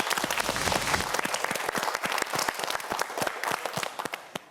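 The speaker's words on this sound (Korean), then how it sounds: "박수 한번 보내주세요." Studio audience at a televised quiz show applauding steadily, a dense, even burst of many hands clapping that tapers off toward the end.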